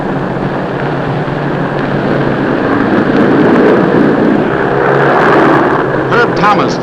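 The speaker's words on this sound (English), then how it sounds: "Herb Thomas throws coal on the fire and opens the throttle" Stock car engines roar together at the 1953 Darlington Southern 500, a loud continuous drone of racing motors that swells steadily across the stretch, with a few brief higher squeals near the end.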